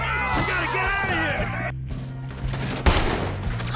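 Gunfire in a Red Dead Redemption 2 gunfight rattles in a rapid burst over a game soundscape, followed by a brief gap and then a sharp single crack with lingering echo.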